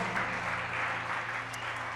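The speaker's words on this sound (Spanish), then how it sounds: "Denle un fuerte aplauso al Dios Todopoderoso, a nuestro Padre Dios" A church congregation applauding together, a dense and steady wash of clapping that holds at an even level for the whole two seconds over a low hum.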